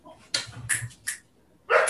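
Dogs let out several short, sharp barks and yelps close by, arriving in quick irregular bursts separated by brief pauses.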